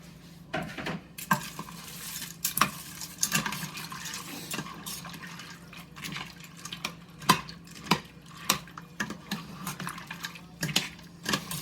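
Noodles being stirred in a pot, with repeated soft scraping and clinking taps of a utensil against the pot over a gentle bubbling, close and alone with no talk.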